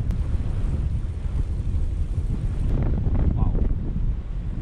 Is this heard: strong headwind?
yes